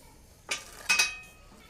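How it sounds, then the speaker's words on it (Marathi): A knife chops through a bunch of pokla, a leafy green amaranth, with two short, crisp strikes close by, the second a quick double hit, against a quiet background. "आपण आता हा पाला चिरून घेऊया."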